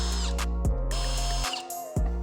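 A power tool whirs in short bursts while removing screws beneath the fender of a Chevrolet Corvette C8, close and moderately loud, with brief pauses between runs.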